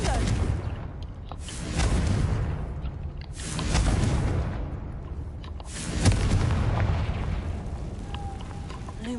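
Confringo blasting spells fire in Hogwarts Legacy, producing several booming explosions that rise and decay in rolling waves, loud and close, with dense rumbling debris noise filling the gaps.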